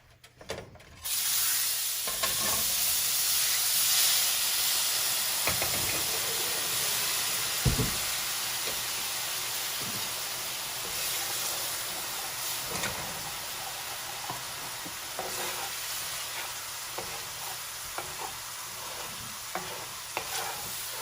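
Milk poured into gravy in a hot pan of country fried steak drippings sets off a loud, continuous sizzle and hiss, with occasional scraping clicks from stirring, close up and steady throughout without talk.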